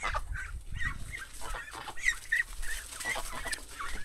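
Three farm-raised ducks give short nasal calls in irregular bursts, several close calls mixed with rustling and background noise, moderately loud and without talk.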